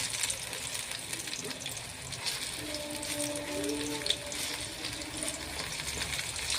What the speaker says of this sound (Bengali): একটু লাল করেই ভাজতে হবে, না হয় খেতে স্বাদ লাগবে না।